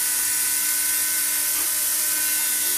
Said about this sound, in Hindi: उसके बाद ये सेंट पेपर ग्राइंडर से मैं इसको पॉलिश करता हूँ